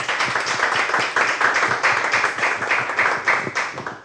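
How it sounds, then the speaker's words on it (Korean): Audience applause closing a franchise lecture on contracts and trademark registration, a moderate-sized crowd clapping with distinct individual hand claps audible in a brisk, slightly uneven rhythm, steady throughout. "정말 오늘 수고해주신 법무관님하고 변호사님한테 큰 박수 한 번만"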